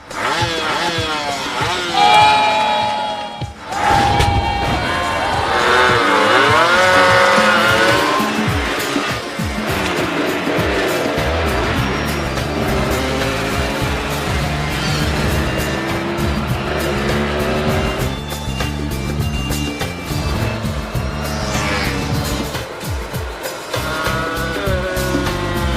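Racing engines and tire noise from a motorcycle race in a film scene featuring a two-stroke Kawasaki Leo, loud and continuous with revving and squealing throughout, under a busy mix of music and crowd-like background.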